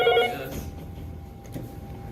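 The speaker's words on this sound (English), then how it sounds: "The phone was ringing and there was no one in here." An office telephone rings in a short burst at the start, then fades into a quiet room with low background noise.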